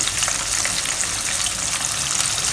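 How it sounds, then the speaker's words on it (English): Shrimp frying in a batch of hot oil, a steady, close, bright sizzle and crackle with no talk. "I'm going to fry them in 2 batches so that the oil temperature will not drop rapidly"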